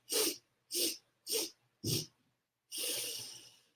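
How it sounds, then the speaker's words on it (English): Four short, sharp nasal sniffs in a steady rhythm, followed by one longer breathy exhale, close and clear with no talking. "one breath, broken up into 4 sniffs"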